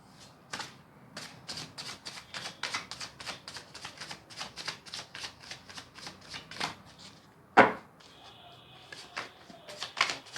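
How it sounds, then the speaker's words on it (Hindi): Tarot cards being shuffled and drawn, a rapid run of crisp riffling flicks and slaps with one sharper snap near the end, close and fairly quiet with no voice. "यहाँ से एक कार्ड और निकाल लेते हैं आपके पर्सन की फीलिंग के लिए"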